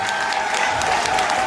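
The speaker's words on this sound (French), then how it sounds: "Je voudrais qu'on applaudisse très fort Gadi Sedi" An audience at a diaspora gathering in Paris claps steadily, a dense, even patter of many hands filling the room with no voices rising above it.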